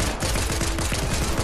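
Rapid gunfire in a Fortnite match, dense and loud: a fast burst of shots packed close together with no gaps, filling the whole moment without any talking over it.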